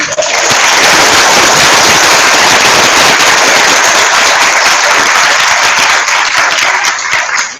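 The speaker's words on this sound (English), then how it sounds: "you have to give him a round of applause, a big round of applause" Loud, sustained applause from a school assembly audience welcoming a visiting ambassador, dense clapping filling the hall for several seconds before tapering at the end.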